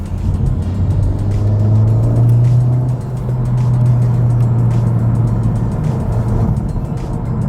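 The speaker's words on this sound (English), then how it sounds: "I've read that people complain about road noise, and that's true." Steady low road rumble and tire drone fill the inside of a moving 2019 Honda Civic Type R, loud and constant, with a slight dip in the middle.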